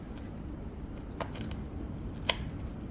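A knife slices through a tray of baklava, cutting it into separate squares, giving faint crisp crackles and a few sharp clicks against quiet room noise.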